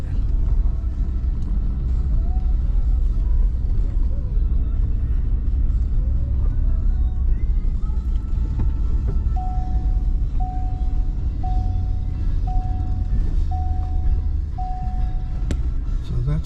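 A pickup truck driving up a rough hill path on rural property, its engine a steady loud rumble throughout with repeated short tonal beeps near the end.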